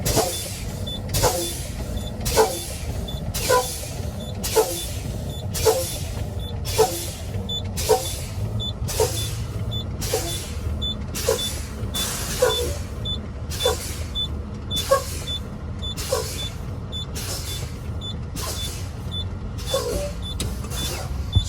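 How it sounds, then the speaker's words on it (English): Repeated sharp bursts of air hissing from a truck's air brake system, releasing air until the emergency spring brakes pop out, about one per second over a steady low engine rumble, close and loud. "Going to continue releasing air until the emergency spring brakes pop out"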